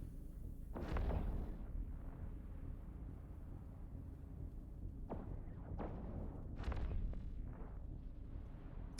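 Spaceship weapons firing in the Eve Echoes video game, a few heavy booming blasts and thuds over a low rumbling background, moderately loud with irregular spacing and no talk.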